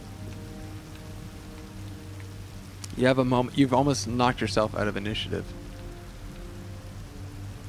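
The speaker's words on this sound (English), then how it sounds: "There's this moment as the rain's coming, pouring down upon you." Rain pours down as a soft, steady wash through a tabletop fantasy game session, while someone speaks over it in the middle of the stretch.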